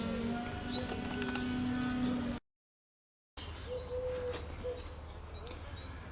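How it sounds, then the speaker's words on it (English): Birds chirp and trill in early spring, a series of high bright calls over a steady outdoor background that briefly cuts out, then fainter scattered calls return. "The birds are singing."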